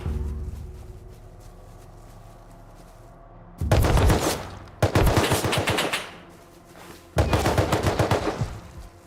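Gunfire in the survival game Rust: after a quiet stretch, three loud, close bursts of rapid automatic fire, each lasting about a second or more, separated by brief pauses.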